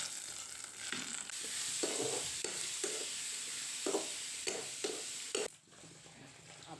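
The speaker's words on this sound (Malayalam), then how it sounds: "വെള്ളരിക്കും പരിപ്പും അതൊക്കെ ഒന്ന് വറവിടുകയാണ്." Hot oil sizzles steadily as a tempering is poured over a cucumber and lentil curry, with a series of soft scraping stirs breaking through the hiss before it briefly drops away near the end.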